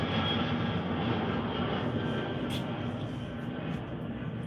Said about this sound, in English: every time the plane goes over, I'm gonna drink